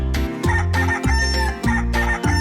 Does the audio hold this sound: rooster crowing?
yes